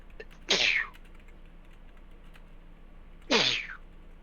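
Two short, sharp sneezes about three seconds apart, each a quick explosive burst over a quiet room background, with no talking.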